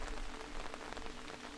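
Steady rain falls in an even wash of patter, with scattered drops ticking out now and then, continuous and moderately close.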